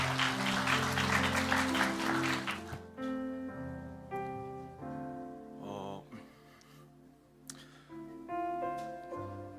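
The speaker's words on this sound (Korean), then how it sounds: "박수로 한번 격려해 주시면 좋겠습니다." Congregation at a Korean church Sunday worship service claps briefly and fairly softly for a few seconds before the applause stops and gentle keyboard music carries on alone.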